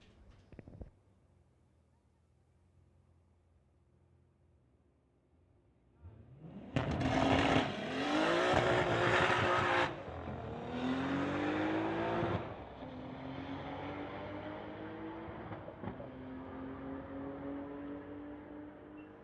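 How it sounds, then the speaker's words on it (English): At a street-legal drag strip, a 1999 Camaro and a 1992 VW GTI idle low, then launch with a sudden loud roar, engines climbing through rising gear pulls before fading as they run down the track. "We've got Tony on the pit side in a 99 Camaro going against Greg from Port Coquitlam in his 1992"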